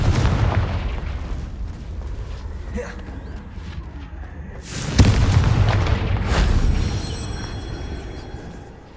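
Confringo spell blasts in the Hogwarts Legacy video game: a dense, rumbling run of booming explosions, with a sharp loud burst midway followed by fiery crackling and bright magical shimmer, set over a continuous low game score.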